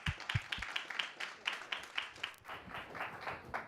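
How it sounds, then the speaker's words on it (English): Light applause from an audience welcoming a speaker at a patient care talk: quiet, rapid clapping that carries on steadily throughout, fairly thin and distant. "Let's give him a round of applause."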